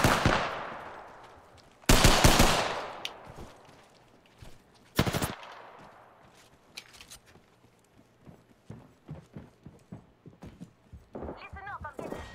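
Gunfire in a battle royale video game as another team shoots at the player: two loud, heavy bursts early on, followed by scattered, sharper shots and rapid rattling near the end, with game sounds between.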